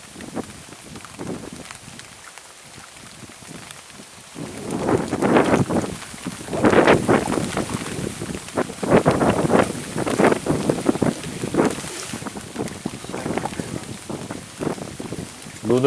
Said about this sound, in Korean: 저기 멀리서 바람 오죠.